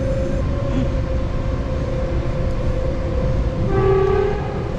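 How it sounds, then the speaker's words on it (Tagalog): A train horn sounds inside a mountain tunnel in the Blue Mountains, Australia, over a steady rumbling rail noise, with a sustained tone swelling near the end amid echoing, enclosed ambience. "bumubusina sila sa kuweba"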